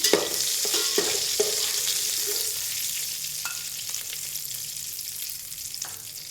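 Dried fish fries in a pan with a constant bright sizzle and crackle, broken by a few clinks and scrapes of stirring near the start, close and steady with no talking.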